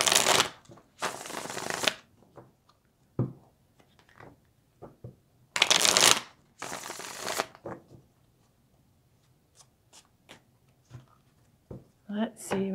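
Tarot cards are shuffled in two long riffling bursts, each about two seconds, close and crisp, with softer card handling and light taps in between.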